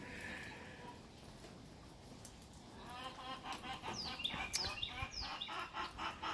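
Meat chickens cluck and call in a 10 by 10 pen, faint at first, then a busier stretch of overlapping clucks over steady outdoor background noise.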